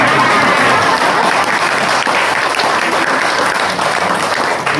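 An assembly audience in Brunei breaks into dense, sustained clapping, a loud steady wash of many hands filling the hall.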